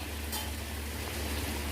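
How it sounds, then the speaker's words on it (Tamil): Steady, dense sizzling and crackling of taro (arbi) deep frying in hot oil, a continuous bubbling hiss with no voices. "இது நல்ல ஒரு மாதிரி கோல்டன் கலர் வரணும், அது வரைக்கும் நல்லா ஃப்ரை பண்ணிக்கலாம்"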